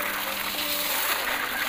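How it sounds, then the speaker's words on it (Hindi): Water rushes steadily into a container, a continuous close splashing pour with no break. "ये देखिए भर ले रहे हैं पानी दोस्तों।"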